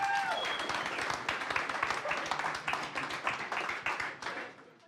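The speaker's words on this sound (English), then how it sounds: "For the second team here, Applause, Capgemini-Enseeiht-Epitech." Audience applause and clapping for a hackathon team at a Toulouse tech pitch event, dense and sustained with individual claps distinct, fading slightly toward the end.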